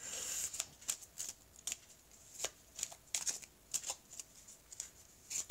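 Small tarot cards being handled and flipped over one by one, a series of close, crisp snaps and flicks at an uneven pace, with no voices.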